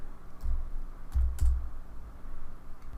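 Keys tapped on a computer keyboard while a value is entered into CAD software, a few soft clicks in short bursts with pauses, close and fairly quiet, no talking.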